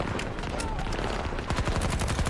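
Rapid automatic fire from sentry guns in Battlefield 2042, a continuous rattling barrage of bursts that grows denser near the end, with chatter and game noise mixed underneath.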